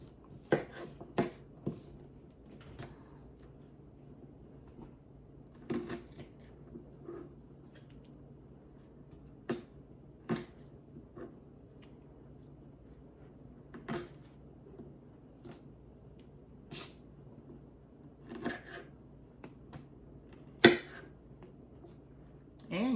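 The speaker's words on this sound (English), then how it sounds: "we're gonna cut these tips off" Knife chopping the tips off green onions on a cutting board during Thanksgiving food prep, sparse irregular sharp taps spread out over time, quiet and close with soft background hum.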